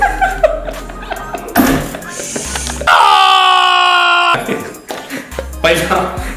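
A loud, sustained scream on a dare rings out for more than a second, set between bursts of excited talking and laughter from several people.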